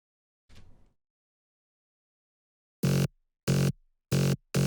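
A gritty Serum wavetable synth patch, dry with no distortion, compression or EQ, for a remix drop: four loud, evenly spaced sustained bursts with sharp cutoffs, preceded by a faint brief noise and a long silence.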